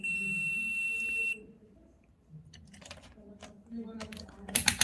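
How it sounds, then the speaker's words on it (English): A multimeter in continuity mode gives a sustained electronic beep that cuts off after about a second, followed by quiet clicks and handling noises on the workbench. "in continuity mode this is going to show some beep value"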